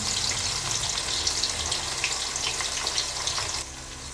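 Two medium-sized onions sizzle in hot oil in a pan for a dhaba-style matar keema, a steady hissing crackle that runs close and alone, dropping off near the end.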